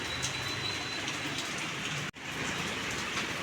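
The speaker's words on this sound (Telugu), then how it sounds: "ఒకసారి నేను అవతల వైపు వర్షం ఎలా ఉందో మీకు చూపిస్తాను" Steady rain falls outdoors in Andhra Pradesh, a dense, even hiss of drops on surfaces throughout, with a brief dropout partway through.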